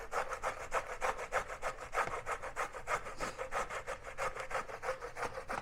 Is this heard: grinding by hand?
yes